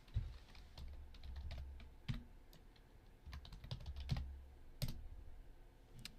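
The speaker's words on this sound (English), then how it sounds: "I think I typed the password wrong there" A computer keyboard clatters with irregular bursts of keystrokes while a password is typed on a Linux desktop running XFCE, close and clear with short pauses between runs of keys.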